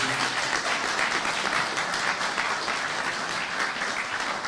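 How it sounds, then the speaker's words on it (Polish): Audience applause for a masseuse at a ceremony honouring a basketball team, a continuous even wash of many hands clapping throughout, steady and fairly loud. "Dla niej też wielkie brawa"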